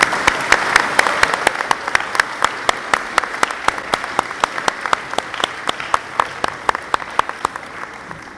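A school ceremony audience claps for seventh-grade award recipients, a thinning round of applause that settles into a few distinct, rhythmic claps close by.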